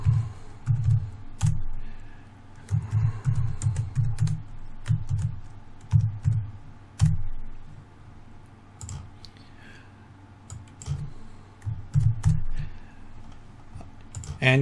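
Staff names typed into an Excel spreadsheet on a computer keyboard: quiet, steady clicking of keys in irregular bursts with short pauses, heard up close with no voices.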